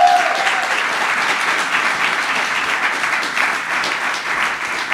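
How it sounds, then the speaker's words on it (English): Sustained audience applause closing an evening talk event featuring Paula Scanlan, a dense, steady wash of many hands clapping at full strength through the whole stretch with no voices over it. "Let's give one more round of applause to the amazing Paula Scanlan."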